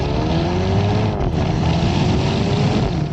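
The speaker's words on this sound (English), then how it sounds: "they do this thing with the fueling, which makes a barp sound." Loud engine drone with rising harmonics as a 2019 Mercedes-AMG A35 hot hatch accelerates, a brief fueling blip marking a gear upshift, wind noise throughout.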